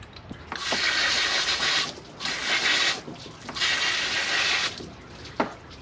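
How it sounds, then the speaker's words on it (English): A garden hose rinses freshly cleaned crabs in three strong bursts of spray separated by short pauses, close to the microphone, with a soft thump near the end. "I'll take our hose,"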